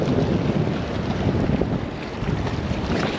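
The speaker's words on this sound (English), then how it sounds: "Wind is crazy in this side." Strong wind on a beach shore where people are fishing for pompano: a loud, continuous roar of gusts buffeting the microphone, with surf mixed underneath and no talk.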